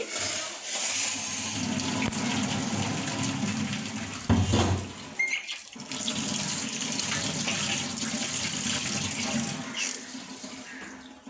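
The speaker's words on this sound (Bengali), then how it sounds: "এখন এটা পানি ঝরিয়ে নিচ্ছি।" Hot water from boiled stick noodles is poured off through a strainer into a sink, giving a steady rushing splash that runs for several seconds, breaks briefly and then resumes at a similar level.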